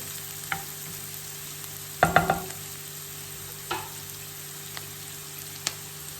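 Butter melts and sizzles in a pan with oil, a steady soft fry under scattered clicks and a short burst of clattering utensil knocks.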